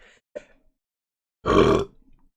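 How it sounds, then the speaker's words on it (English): A single loud, close burp lasting about half a second, preceded by a couple of faint mouth sounds and followed by quiet. "Sorry, another burp."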